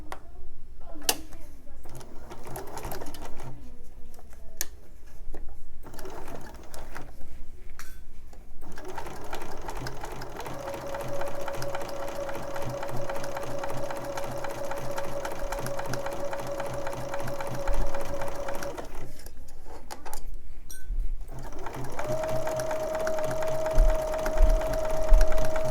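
A sewing machine stitches a quarter-inch quilt seam, running in a steady close mechanical whir with a thin tonal whine, pausing briefly near the end before starting again.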